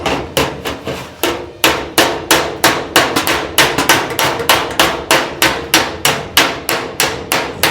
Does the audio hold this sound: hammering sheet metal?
yes